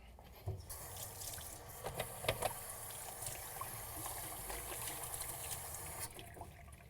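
Tap water runs quietly in a kitchen as hands get a quick wash, a soft, steady stream with a few faint splashes and clinks.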